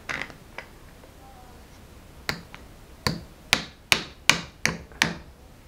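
Hammer blows while a lamp is mounted: a few scattered taps early on, then a steady run of six sharp, close metallic strikes about half a second apart, with no talk.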